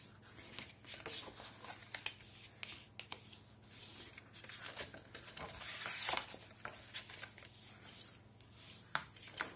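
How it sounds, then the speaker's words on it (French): A cardboard milk carton box being folded by hand, soft creasing, rubbing and scraping sounds in a close, quiet sequence with occasional sharper taps, no talking. "je vais plier ma boîte"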